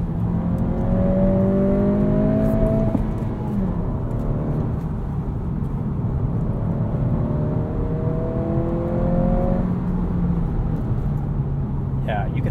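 A 2023 Acura Integra with a six-speed manual pulls hard from inside the cabin, its engine note rising through two climbing runs with a shift between, steady road and wind noise underneath.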